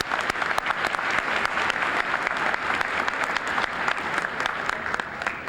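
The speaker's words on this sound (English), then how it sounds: "Just give them a round of applause." Sustained audience applause fills a college commencement ceremony for arts, science and education graduates, steady dense clapping from a large crowd at moderate loudness with no talk over it.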